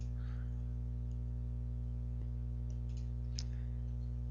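A mouse clicks while CAD software is operated: a couple of soft, brief clicks, close and faint over a steady electrical hum, with no talk.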